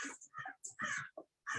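A crow caws several times in quick succession during a county commissioners' meeting, the harsh calls fairly close but faint, with no talk under them.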